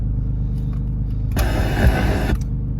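An Infiniti G35 coupe engine cranks and catches, a short burst of starter whir and ignition rising over a steady low idle rumble, close by and without speech.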